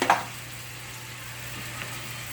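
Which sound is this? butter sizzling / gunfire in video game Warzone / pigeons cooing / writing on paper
butter sizzling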